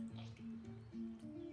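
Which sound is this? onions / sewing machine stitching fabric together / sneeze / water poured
water poured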